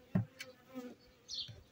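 Honeybees buzz on hive comb frames in short, faint bursts, close by and with no talking.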